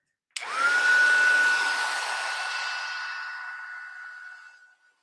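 A heat tool runs steadily in a whining, breathy blow to dry paper sprayed with Distress spray stains on black Strathmore paper. It starts abruptly and is close and loud, then gradually fades out and stops.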